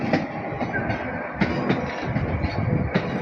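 A Regio passenger train departs close by, its wheels knocking in an irregular clickety-clack over a rumbling drone, with occasional faint squeals.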